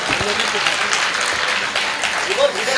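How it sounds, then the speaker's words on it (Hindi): An audience applauds at a Hindi comedy show, a steady ripple of clapping that fills the room with voices mixed in. "आप फिर से ताली बजाएंगे"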